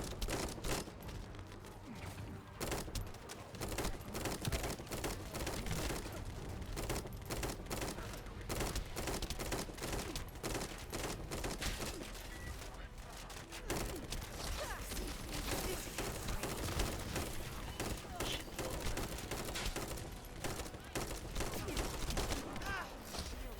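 Steady gunfire rattles through a battle in The First Descendant, dense repeated bursts of shots continuing for over twenty seconds at a fairly quiet level, with occasional voices under it.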